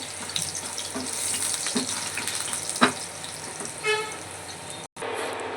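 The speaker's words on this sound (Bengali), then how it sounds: "আর এই কড়াইয়ের মধ্যে তেল দিয়ে আলুটা ভাজতে শুরু করে দিয়েছি" Potatoes fry in oil in a kadai wok, a continuous close hiss and sizzle broken by a few light clatters, with no talking.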